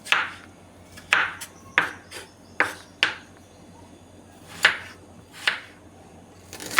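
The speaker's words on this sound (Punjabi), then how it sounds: "ਸਭ ਤੋਂ ਪਹਿਲਾਂ ਆਪਾਂ ਆਲੂ ਨੂੰ ਕੱਟ ਲਵਾਂਗੇ ਆਲੂ ਨੂੰ ਤੁਸੀਂ ਬਿਲਕੁਲ ਬਰੀਕ ਬਰੀਕ ਕੱਟਣਾ ਹੈ" A knife chops potatoes finely on a cutting board, with about nine sharp, evenly spaced knocks and short pauses between strokes. The sound is close and clear, with no talking.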